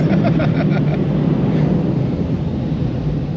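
Strong wind buffets the microphone in a steady, loud roar with low rumbling gusts, blowing hard around a parked camper rental truck fitted with a tonneau cover.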